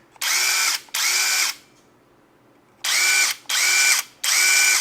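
An OSUKA OCID821 cordless impact driver, 235 Nm, whirs in five loud, close bursts, each about half a second long, with a short pause and then a longer gap in the middle.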